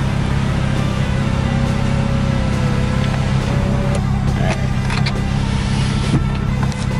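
A car's electric sunroof motor whirs steadily inside a BMW during a drive, a continuous mechanical hum layered over loud road and engine rumble, with faint clicks and rattles near the end.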